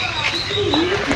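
A nearby bird at a butterfly park in Melaka gives soft cooing calls with chirpy tones, mixed with voices talking over it.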